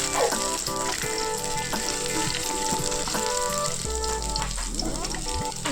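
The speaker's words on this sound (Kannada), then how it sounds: "ಬೆಳ್ಳುಳ್ಳಿ ಹಾಕ್ಕೊಂಡಿದ್ದೀನಿ ಫಸ್ಟು ಸ್ವಲ್ಪ ಲೈಟಾಗಿ ಫ್ರೈ ಆಗೋವರೆಗೂ ಫ್ರೈ ಮಾಡ್ಕೋಣ" Garlic frying in oil in a pan for a paneer gravy, a steady dense sizzle running throughout with faint clinks and a low rumble near the end.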